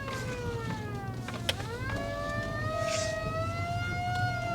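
A Pierce mechanical cattle siren mounted on a truck winds down and then back up, its harmonic wail rising and settling into a sustained tone, loud and close over engine rumble.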